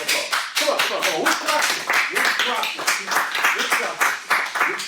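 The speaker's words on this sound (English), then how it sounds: "Give us another round of applause." Class participants at a France session with an instructor clap in a steady, moderately loud round of applause, irregular and close, with a voice talking over it.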